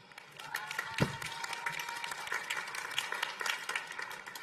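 A crowd applauds steadily in a large room at a university nursing graduation ceremony, a dense wash of clapping with a sharper burst near the start, continuing throughout.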